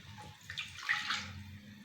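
Water poured into a pan for kozhukattai, a short, soft stream splashing steadily for under two seconds, close and fairly quiet, with no talking.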